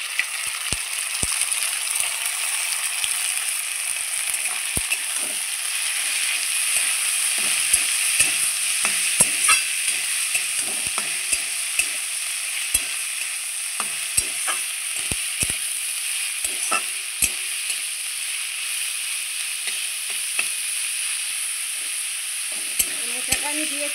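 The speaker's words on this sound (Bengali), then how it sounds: "মোচাটা আমি দিয়েছি, মোচাটাও একটু ভেজে নেব।" Steamed banana flower frying and being stirred in a pan for a rice dish, a steady close sizzle with scattered scraping clicks of the spatula throughout.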